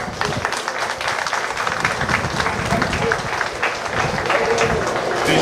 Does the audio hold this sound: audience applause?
yes